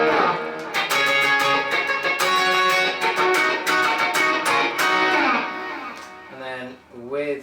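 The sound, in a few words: electric guitar through J-Rock Audio Animal OD overdrive, chorus off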